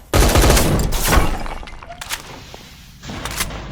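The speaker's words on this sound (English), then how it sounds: "And you can dispose of the crystal with your gun." Gunfire blasts at a crystal in the Roblox game SCP Roleplay, a loud burst of close shots with a shattering crack, a few scattered hits after a short lull, then another sharp volley.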